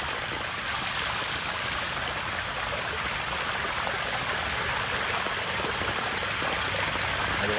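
Flood water rushes in a storm like a river, a dense, steady roar of flowing water that stays constant and loud throughout with no talking.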